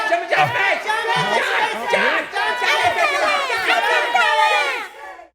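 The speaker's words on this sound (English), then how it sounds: "Start cheering now." Children in a kids' ministry audience cheering and shouting together, a lively near crowd of overlapping high voices with whoops and calls, sustained throughout before cutting off.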